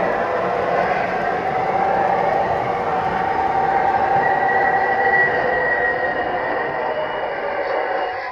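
Steady rumbling run of an MTH R142A model subway train playing a 4 Lexington Avenue express, a continuous loud hum with faint tonal whine and no speech over it.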